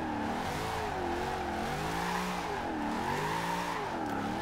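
Toyota AE86 drifting in Forza Horizon 2, the engine revving up and down in continuous swooping waves as the light car slides through corners, loud and steady with no speech.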